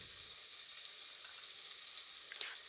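Whole spices, split bay leaf, cinnamon pieces and cardamom, sizzle in hot oil for alu ghati, a steady, fine, fairly quiet crackle with a few brighter pops and no talking.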